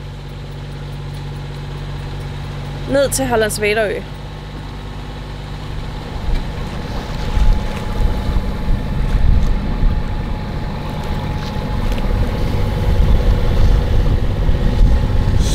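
A sailboat motoring under engine power off the Swedish archipelago near Hallandsväderö, its engine drone steady and close, with water rushing along the hull growing louder over time; someone speaks briefly near the start.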